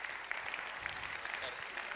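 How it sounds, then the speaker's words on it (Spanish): Audience applause at an academic conference on research systematization, steady dense clapping filling the whole stretch at moderate level with no pause. "Un aplauso, por favor."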